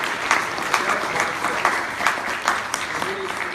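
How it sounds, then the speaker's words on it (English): Audience clapping steadily for two speakers at an ILO youth event on the future of work in Nepal, a dense even patter of many hands with a faint voice briefly underneath near the end. "can we just clap our hands again for two great speakers?"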